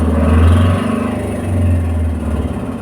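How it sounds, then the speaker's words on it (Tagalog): A motorcycle engine runs close by at a steady idle, its low throbbing hum swelling and easing twice over a few seconds, with no voices. "Maingay kasi guys, may nagpapaandar ng motor kasi punta kami aalis sa bukas."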